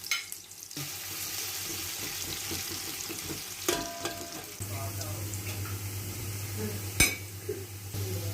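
Oil sizzles steadily in a pan as onions fry, with scraping and stirring on top and a sharp clatter near the end, no talking.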